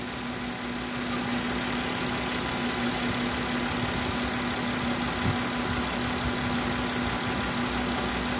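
A car engine left idling with a gasoline fuel pump that has no bypass, a steady mid-pitched hum and vibration running evenly throughout, moderately loud with a faint high whine and no voices.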